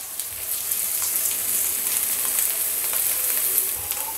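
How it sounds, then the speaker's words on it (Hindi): Onions frying in a pan with finely chopped ginger and garlic, a steady close bright sizzle with faint crackles and occasional stirring, no talk. "प्याज को अच्छी तरह से फ्राई कर लेंगे।"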